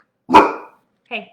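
A guard dog lets out two barks indoors, a loud close one followed by a shorter, softer second bark, with a person's brief spoken word overlapping.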